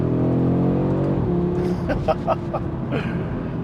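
An Audi RS3 hot hatch drives along with a steady engine drone and rising revs, heard from inside the cabin, while someone talks briefly over it.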